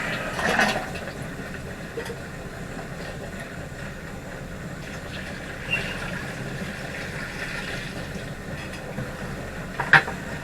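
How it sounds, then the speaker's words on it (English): Water runs into a homemade tumbler converted from a mixer, a faint, continuous trickling wash with a few soft knocks and clicks near the start and end. "So let's put some water in there."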